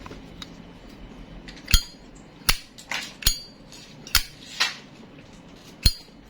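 A red metallic 2023 Zippo Abstract Lines lighter gives sharp, bright metallic clinks as its lid snaps, about seven distinct hits at uneven intervals over a faint noisy room background.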